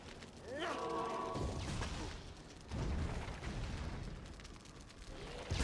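Explosions in the action role-playing video game Torchlight II, several dull booming bursts heard quietly beneath game music and sound effects, with a commentator talking at times.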